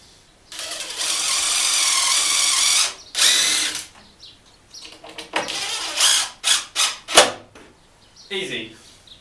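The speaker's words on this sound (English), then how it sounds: "switch the bit to drill driver bit" A cordless drill driver whirs in a sustained high-pitched burst, then several shorter bursts and quick triggers follow with pauses between, close and loud, alongside someone talking in a workshop while putting up a tool wall.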